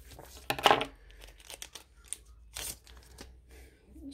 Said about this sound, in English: Just gonna get my scissors real handy so I don't damage anything.